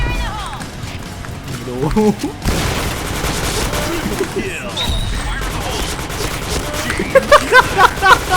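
Rapid bursts of video game gunfire crackle beneath excited, overlapping voices, with sharp, repeated shots growing denser toward the end.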